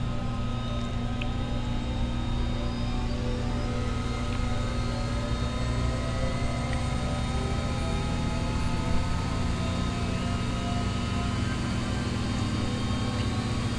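Simulated Bell 429 helicopter engines spin up in the X-Plane 11 flight game, a steady, even turbine whine and hum with layered tones that holds at constant loudness throughout, with no talking.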